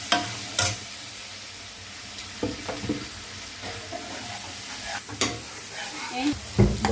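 Green chilies and onions frying in hot oil, a continuous sizzle punctuated by several sharp stirring scrapes and clatters of a utensil against the pan, fairly close and with no speech.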